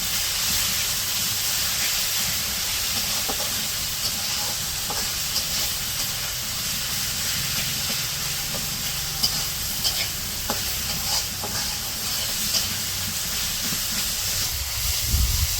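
Boiled red amaranth greens fry in oil with onion and garlic, a steady close sizzle and hiss with occasional scrapes and clinks of stirring throughout, no voices.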